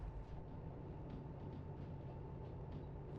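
A train rolls along the track in the railway simulator Derail Valley, a steady low rumble with faint rhythmic clatter, continuous and fairly quiet, with no voices.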